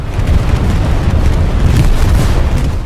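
A continuous, heavy low rumble of explosions rolls on throughout, loud and dense with bursts blending together.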